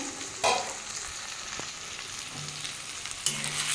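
Potatoes fry with tomato and onion in a covered pan: a soft, steady sizzle close by, broken by a few sharper clicks of a utensil, with no voices.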